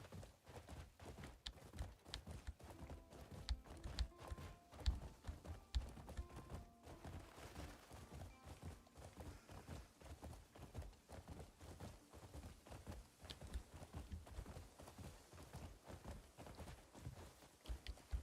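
Horse hooves clip-clop steadily through the whole stretch in the video game Crimson Desert, with a dense, rhythmic walking gait and a faint game soundtrack beneath, and no talking.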